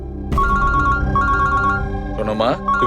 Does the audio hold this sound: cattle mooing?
no